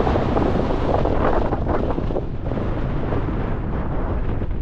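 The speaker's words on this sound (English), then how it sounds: "as you can see, it's quite windy" Strong, steady wind roars and buffets against the microphone at a wild camp above England's deepest lake, a dense continuous rush with no pauses.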